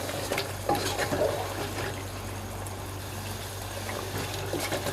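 Chicken pieces stir and fry with masala and tomato juices in ghee in a pan, a close, steady sizzle broken by scraping stirs and light bubbling.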